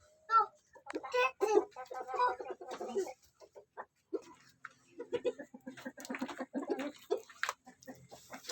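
Chickens cluck in short, close bursts with brief pauses, fairly quiet, with occasional louder squawks.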